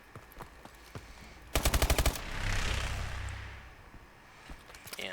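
A rapid burst of about seven gunshots from Call of Duty Advanced Warfare's Reckoning map pack, fired at a charged tablet, cracks out loud and evenly spaced, then fades into a rushing, rumbling blast that swells and dies away.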